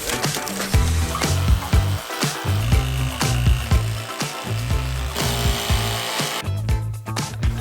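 A power saw cuts a window opening through the metal wall of a Ram Promaster van, a loud close buzzing whine broken by short pauses and rhythmic strokes as the blade works through.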